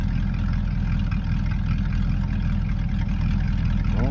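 A 1966 Chevrolet C10 pickup truck engine running through a 2.5-inch tailpipe exhaust, a steady, close, low-pitched rumbling drone with an even pulsing beat throughout.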